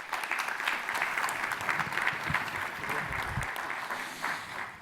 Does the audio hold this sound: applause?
yes